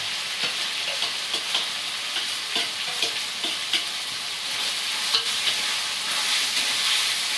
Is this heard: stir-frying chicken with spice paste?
yes